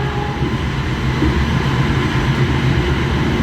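A KRL commuter electric train passing close by, with a loud, steady roar and rumble of wheels and carriages sustained throughout, alone with no voices.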